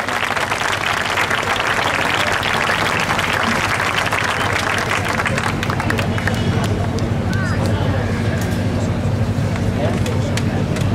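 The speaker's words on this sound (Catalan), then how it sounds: "Un aplaudiment, doncs, per l'Agustí Alcoverro, que ja ens acompanya." Sustained audience applause fills a hall at an independence festival in Reus as a history professor is welcomed to the stage, dense and steady throughout with crowd murmur mixed in, thinning slightly toward the end.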